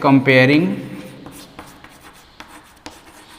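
Chalk or marker scratching an equation onto a board during a chemistry kinetics lesson, a voice speaking briefly at the start, then soft scattered strokes and taps.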